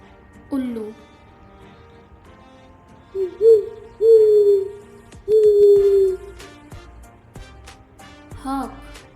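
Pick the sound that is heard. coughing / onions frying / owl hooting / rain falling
owl hooting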